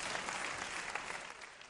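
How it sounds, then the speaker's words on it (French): A comedy show audience gives a brief, dense round of applause, faint and distant, steady throughout the short burst. "applaudissez pour vous"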